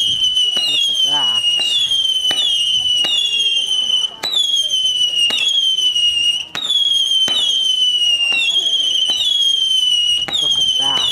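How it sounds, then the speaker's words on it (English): Fireworks pop and crackle repeatedly with sharp bangs and whistling streaks at a Fireworks Night display in Mavis Enderby, Lincolnshire, while people talk excitedly nearby. "Look at all the fireworks up there."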